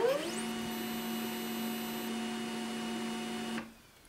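HP Laser 107a laser printer powered on gives a steady electrical hum with a faint whine, constant for a few seconds before cutting off abruptly into near silence as it shuts down.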